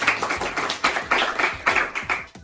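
A small group clapping for a correct answer in a classroom science quiz, brisk, dense, uneven applause, close and fairly loud, fading out at the end.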